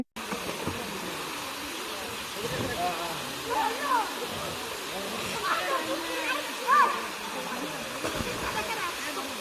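Rupashi waterfall at Sitakunda, Chittagong, running low after days without rain, gives a steady broad rush of falling water throughout, with voices and bird-like chirps over it.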